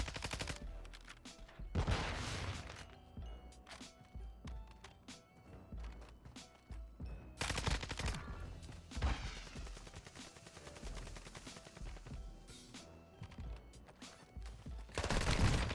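Repeated bursts of automatic gunfire and scattered single shots in Warzone 2, with some louder nearby volleys among quieter distant fire, continuing steadily throughout.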